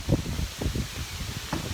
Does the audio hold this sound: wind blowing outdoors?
yes